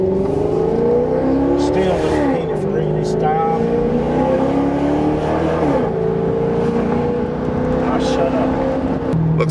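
A 2014 Maserati GranTurismo Sport's engine revs and pulls hard through a turn on a test drive, loud and close with rising and falling pitch sweeps throughout, while people talk over it inside the car.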